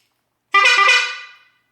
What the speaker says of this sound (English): This is an actual metal horn. It works.